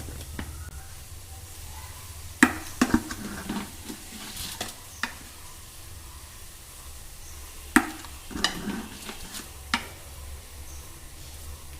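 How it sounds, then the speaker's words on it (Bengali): Milk heating in a pot for oats, stirred with a spoon: a steady low simmer and sizzle runs throughout, broken by a few sharp scrapes and taps of the spoon against the pot, close and moderately loud, with no talking. "তো এখানে আমি দুধটা গরম করে নিচ্ছি, তারপর ওটস বানাবো বলে।"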